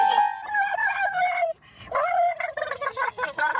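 A dog makes chicken-like sounds, a run of wavering, clucking, gobble-like yelps close by, broken by a brief pause and then resuming in quicker, choppier bursts.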